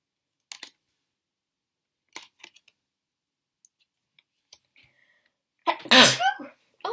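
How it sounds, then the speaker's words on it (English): A single loud sneeze bursts out near the end, close and forceful, after a few quiet clicks and taps of tarot cards being handled in a quiet room. "I think I've sneezed in a video for a long time."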